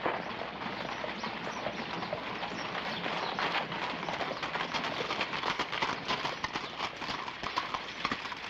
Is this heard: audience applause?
no